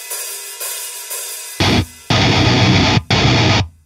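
A heavy distorted guitar breakdown riff, loud and close: a few muted chugs, then long crunching power-chord blasts separated by brief stops.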